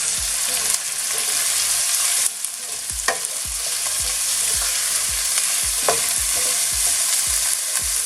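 Onions being stirred as they fry in a pan for a Bengali dry fish bhuna, with a steady sizzle and repeated scraping strokes of the spoon, close and clear with no talk.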